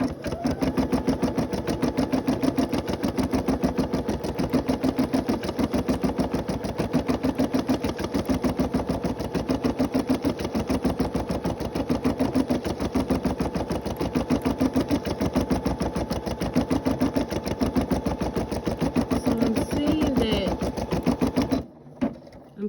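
A Brother SE600 embroidery machine stitches steadily and loudly at close range, its fast rapid needle chatter running unbroken for about twenty-one seconds before stopping abruptly.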